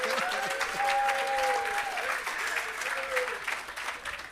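A sustained round of applause fills a crowd gathered for the Prime Minister at the launch of Jamaica's Parnassus Irrigation System and Agro Park, steady and fairly close, with a voice briefly audible over it.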